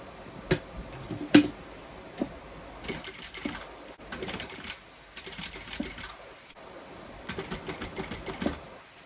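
A sewing machine stitches a bucket bag in short, rapid bursts, each a quick mechanical rattle separated by brief pauses, with a couple of sharp clicks near the start.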